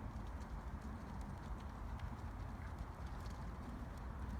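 Horse trotting in an outdoor riding lesson, with a steady, soft rhythm of hoofbeats under a constant layer of ambient noise and no voices.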